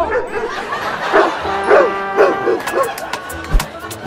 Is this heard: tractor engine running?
no